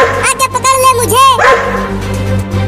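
A cartoon dog barks and yips in quick excited bursts, mixed with lively voices and background music.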